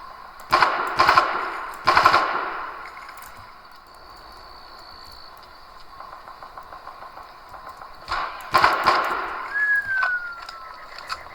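Automatic gunfire in the Far Cry video game, with several short, sharp bursts at the start and again near the end, separated by a quieter stretch of ambient game sound and a brief rising tone.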